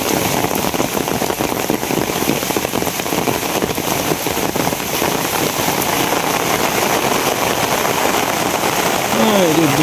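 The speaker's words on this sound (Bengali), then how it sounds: "দেখেন চারিদিকে বৃষ্টির অবস্থা।" Heavy, steady rain pours down all around in a dense continuous hiss with drops pattering on surfaces, loud and unbroken for the whole stretch, with a faint brief tonal sound near the end.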